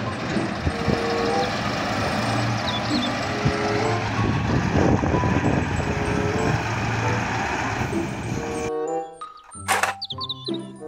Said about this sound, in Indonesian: Mobil dump truck.